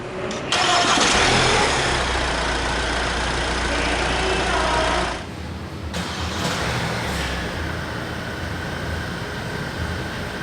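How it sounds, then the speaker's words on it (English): A 2023 Hyundai Santa Fe SUV with a 2.2 CRDi diesel engine starts up with a short crank and a loud catch that flares into a strong rev. After about five seconds it drops to a steady, lower diesel idle, with no talk. "hit this engine start stop button to fire up the engine."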